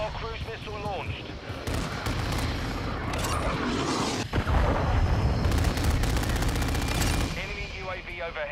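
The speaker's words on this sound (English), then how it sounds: "Hostile cruise missile launched." A hostile cruise missile launches in a Call of Duty match: a dense roar of explosions and gunfire swells in the middle, with a sharp burst partway through and voices over the battle.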